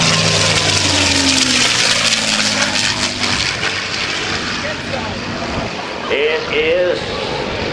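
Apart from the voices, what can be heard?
P-51D Mustang warbird aircraft engine flyby at airshow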